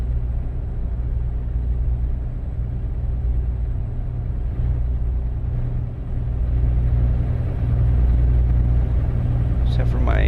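Heavy modded truck with a 1,001-horsepower engine cruising in a truck-driving game, a steady low rumbling drone that holds even throughout and swells slightly near the end, with someone talking over it.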